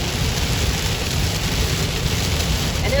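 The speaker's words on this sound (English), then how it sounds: "it started pouring down rain" Heavy rain pouring down during a road trip from South Carolina to Tennessee, a dense, steady hiss of drops drumming on surfaces, loud and unbroken throughout.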